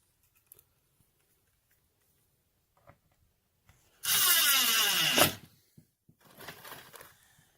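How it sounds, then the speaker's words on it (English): A power drill drives a half-inch countersunk number 8 screw into a door galley hinge in one loud whirring burst lasting about a second. Quiet handling clicks come before it and scraping follows. "we are going to insert the screws into these hinges"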